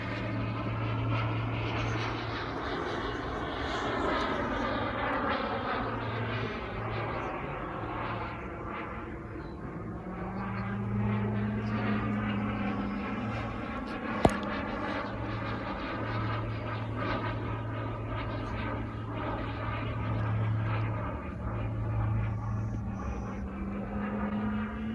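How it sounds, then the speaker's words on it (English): A Swiwin 120 jet turbine engine on an RC Boomerang Ranger jet runs steadily in an open field, a sustained whine and roar with shifting tones as the aircraft is rotated. "So we'll fire up the engine, do a couple engine checks"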